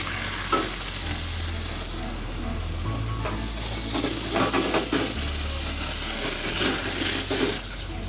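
Port wine and madeira sizzle and bubble steadily in a hot pan as a gratin stuffing is stirred, with clattering and scraping from the spoon, close and continuous.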